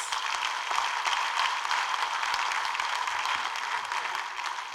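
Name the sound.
applause for the president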